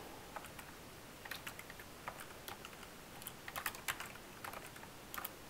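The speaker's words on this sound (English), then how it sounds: "if I type some things, type it all over, whatever." Keys clatter on a computer keyboard in an irregular run of light, quick clicks, fairly faint and steady throughout with nothing else heard.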